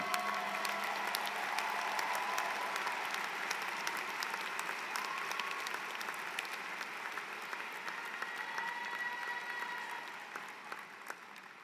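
A commencement audience applauds a graduate walking to the stage, a dense sustained clatter of many hands that fades slightly toward the end, with some faint crowd noise.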